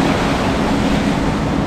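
Sea waves crashing against rocky cliffs below a garden on the coast of Monaco, a continuous loud roar of surf with steady wind noise on the microphone, no voices.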